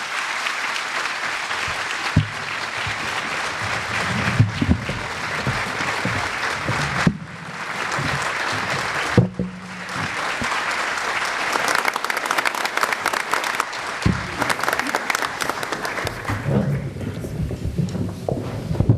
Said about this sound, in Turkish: sevgili şefimiz Mehmet Üçer'i alkışlıyoruz